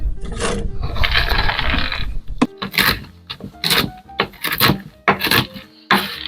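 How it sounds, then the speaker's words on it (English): A knife works through a cup of pecans on a board beside a Dutch oven brownie batter, close scraping and rasping followed by a series of sharp chopping knocks with brief pauses. "I've got a cup of pecans I'm going to chop up and add them to this batter"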